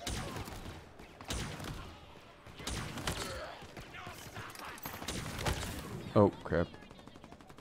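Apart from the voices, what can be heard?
gunfire in Halo Infinite video game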